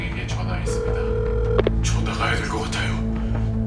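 A telephone call is placed: steady tones and beeps of the line sound against a low mains hum, with a few sharp clicks midway.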